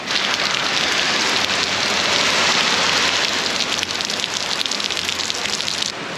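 Heavy rain pours steadily in Florence, Italy, a dense and constant wash of drops drumming on surfaces close by for the whole stretch, with no voices.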